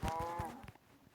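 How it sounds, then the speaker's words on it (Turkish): A cow moos in Minecraft survival mode in a rainforest world. It is a short, faint tonal low at the start that fades within about half a second into quiet background. "Ah, inek inek. Vallahi inek."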